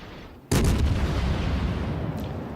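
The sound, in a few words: Zao cruiser firing guns in video game World of Warships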